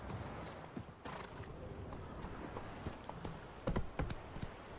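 Geralt's horse Roach gallops in the video game The Witcher 3, a steady stream of hoofbeats amid busy game ambience, with a few louder clatters near the end.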